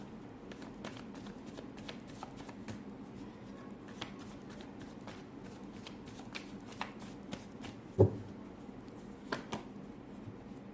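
A deck of tarot cards being shuffled, rapid soft riffling flutters repeating close to the listener, fairly quiet, with one sharper tap near the end and no talking over it.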